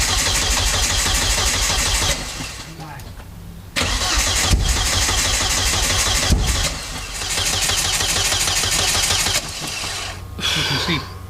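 An Audi A3 race car engine cranks and fires, running loud and close with a steady mid-pitched drone, cutting out briefly twice before catching again; people talk over it.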